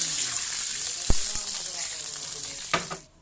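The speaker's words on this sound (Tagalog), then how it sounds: "Buhos na ang tubig." Garlic and onion sizzling in a pot of hot oil are joined by water poured in, a steady hiss with a few sharp splashes and clatters before the sound cuts off abruptly.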